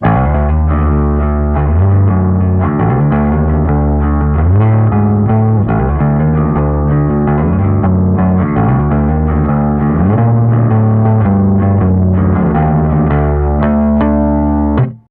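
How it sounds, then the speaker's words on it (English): A loud, gritty electric bass line plays a repeating riff through a Sunn Beta bass amp model on a Poly Effects Ample pedal, driven and slightly distorted, steady and continuous throughout. "Here's a Sun Beta bass amp sound."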